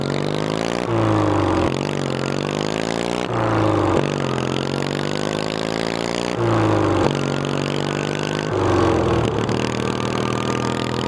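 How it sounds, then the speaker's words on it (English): A mower fitted with a twin-cylinder 700cc Briggs & Stratton engine revs loudly and close, four repeated cycles of throttle bursts with pitch climbing and dropping between steadier running. "These Briggs & Stratton engines are overkill for cutting grass, like twin cylinder 700cc."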